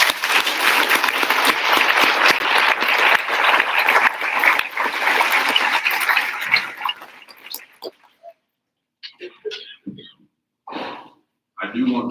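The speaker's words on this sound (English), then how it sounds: "Let's give them a round of applause." Audience applause at a school board meeting, honoring kids who spoke, a broad steady clapping that fills the room for about seven seconds and then fades into scattered faint voices and small noises.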